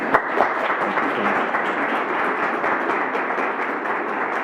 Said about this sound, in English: let's give a round of applause to Devra, the entire team.